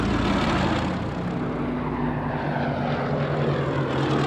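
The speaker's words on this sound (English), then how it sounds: "4 fighter squadrons from 11 Group engage another raid on Dover by about 100 enemy aircraft." A WWII propeller aircraft in flight during a Luftwaffe raid on Dover drones steadily and loudly, a continuous engine roar with a low throbbing hum and no pauses.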